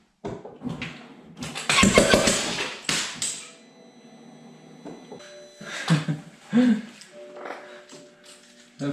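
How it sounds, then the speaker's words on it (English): A rebuilt BMW engine cranks and starts, giving a burst of starter whirring and rough catching, then intermittent revving and sputtering with pauses, close and loud, over a faint background hum. "we'll crank it. It should be enough to build some oil pressure and start the engine"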